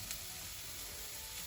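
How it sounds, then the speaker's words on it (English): Vegetables for a vegan omelette sauté in a pan with a soft, even sizzle that holds steady and faint throughout the short stretch. "I'm going to let it saute for a few more minutes"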